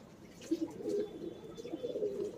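A male Rampuri pigeon coos nearby, soft low rolling calls in two short phrases over quiet room background.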